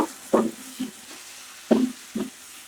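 Taro leaves with shrimp being stirred in a frying pan, with a few scraping, knocking spatula strokes in an uneven rhythm over a soft sizzle, close and fairly quiet.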